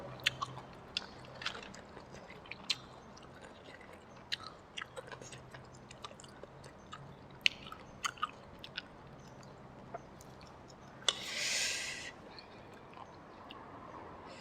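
Close, quiet chewing of sea snails with spicy seafood dipping sauce, scattered crisp crunches and moist squishes, steady throughout, with a brief hiss near the end.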